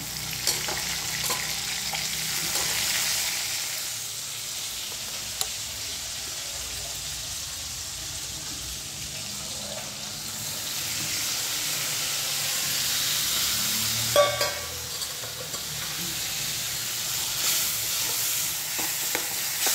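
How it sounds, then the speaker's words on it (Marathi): Potatoes and a handful of peas sautéing in hot oil for a Marathi-style potato-pea dish, giving a steady broadband sizzle and hiss with occasional stirring scrapes, close and continuous, no talking. "चांगलं तेलावर परतून घ्यायचं"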